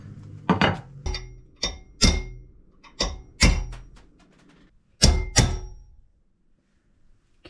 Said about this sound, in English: Gotta pound out these rivets.